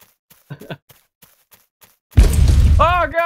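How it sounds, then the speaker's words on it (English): A sudden burst of loud, rumbling explosions in the game Paunch erupts after scattered clicks and a brief voice, followed by a voice cutting in over the noise. "Just explosions everywhere."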